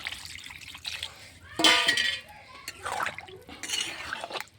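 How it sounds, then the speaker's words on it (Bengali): Water is poured into a cooking pot of kakrol (teasel gourd) being made into a sour curry, in several short splashing bursts close by, with faint clinks from the pot between them. "একটু পানি ঢেলে দিই,"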